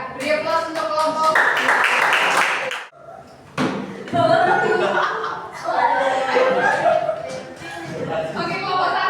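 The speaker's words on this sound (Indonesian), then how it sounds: "beri aplaus untuk kelompok" A classroom group claps at a junior high school lesson, the applause loud and steady across most of the stretch with a brief lull near the middle, mixed with chatter and light laughter.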